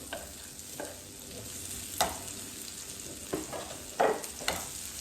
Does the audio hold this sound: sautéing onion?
yes